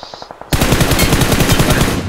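Automatic gunfire in a video game, a few quick single shots followed by a loud, close, rapid burst of sustained rattling fire.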